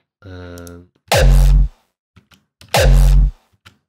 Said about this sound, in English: for a hollow style kick, where it sounds like this